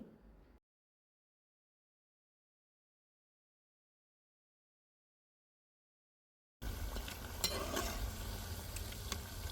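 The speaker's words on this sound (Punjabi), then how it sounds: "ਇੱਕ ਇੱਕ ਕਰਕੇ ਆਪਾਂ ਇਹਨਾਂ ਨੂੰ ਤੇਲ ਦੇ ਵਿੱਚ ਛੱਡ ਦੇਵਾਂਗੇ ਤੇ ਆਪਣੇ ਆਪ ਆਪਾਂ ਇਹਨਾਂ ਨੂੰ ਪੱਕਣ ਦੇਵਾਂਗੇ" Snacks of semolina and boiled potato fry in hot oil. A short burst of sizzle is followed by several seconds of silence, then a steady, close bubbling crackle returns for the last few seconds.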